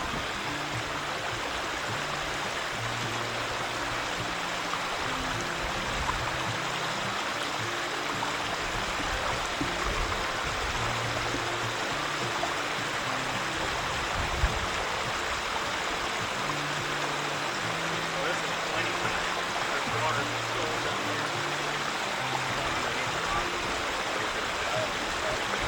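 Water pours continuously down a stone pondless waterfall in a backyard, a steady, full rushing splash close by with no break, while faint voices murmur underneath.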